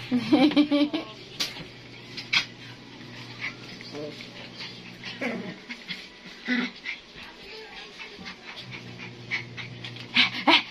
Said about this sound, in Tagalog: Hingal na si Kiluwa